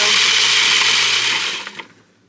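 A countertop blender loudly grinds a chickpea-ball mixture for chocolate chip chickpea balls, a steady high whir that winds down and stops near the end, followed by a brief clatter.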